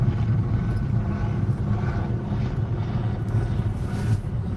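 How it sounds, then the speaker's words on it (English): Helicopter flying overhead during an outdoor search for a missing child, heard as a steady, moderately loud low rotor drone that holds throughout with slight pulsing. "I hear the helicopter."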